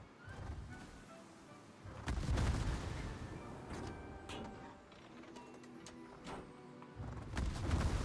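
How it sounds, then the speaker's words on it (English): Gun salvos from an enemy ship in a naval battle video game: deep booming blasts and rumbling explosions, several heavy bursts spread across the clip, with broad roaring noise in between. "With my luck, he'll get a fire with his last salvo there."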